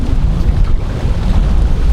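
A boat cruises across a river in Alaska, its engine a close, heavy low rumble mixed with gusting wind buffeting the microphone. The noise stays loud and steady, with no one speaking.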